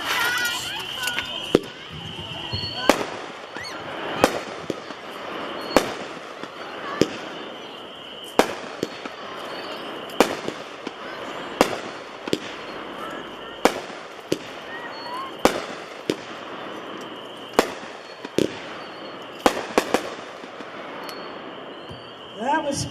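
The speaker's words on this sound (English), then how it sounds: "Number 35, brand new this year from Pirate King, called Party Animal, 12 shot." Party Animal, a 12-shot firework repeater by Pirate King, fires at an outdoor demo: a string of sharp, loud pops spaced a second or two apart over a steady crackling, hissing background with faint crowd voices.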